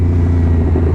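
Aprilia RS660 sport motorcycle fitted with an SC Project exhaust, a loud, steady low engine rumble held close and constant with no talking.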